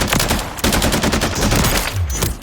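G3 rifle firing in Call of Duty Modern Warfare III, loud rapid full-auto bursts of sharp cracks in quick succession, with a short pause before the firing resumes.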